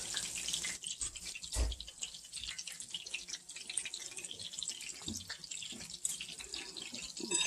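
Tap water runs steadily into a kitchen sink during washing up after frying beer-battered finger steaks, a continuous splashing hiss with a few louder clunks and drips, and no talking.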